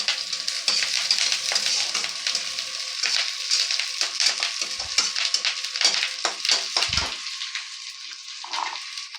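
Curry leaves and onion frying in a pan for a Bengali-style curd brinjal curry, a steady close sizzle with crackling pops and occasional stirring clinks throughout.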